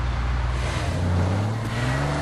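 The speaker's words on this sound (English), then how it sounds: "Lass uns eine Runde Solitude-Rennstrecke fahren." A Porsche 911 engine drones steadily at close range while driving a lap of the Solitude race track, its pitch rising and falling gently through a continuous run with no voices.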